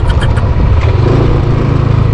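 A motorcycle engine runs steadily at close range while riding along a bypass road in Pampanga, a continuous low rumble with no pauses or talk.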